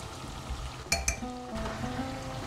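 Whole cumin seeds land in a pan of yogurt and chilli with a soft sizzle and a couple of quick clinks, close by and fairly quiet over steady background noise.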